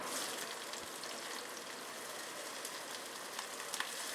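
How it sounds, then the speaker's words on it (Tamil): Chopped onions sauté in a hot pan with mustard seeds, cumin and fenugreek, giving a steady, even sizzle and crackle that runs unbroken throughout without any voices. "லேசாக வதக்கிக்கோங்க."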